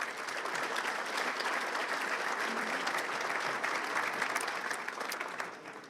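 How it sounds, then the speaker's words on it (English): Audience at an awards gala applauding steadily, a dense wash of many hands clapping at moderate distance that holds evenly and tapers slightly at the end. "Give that a great round of applause."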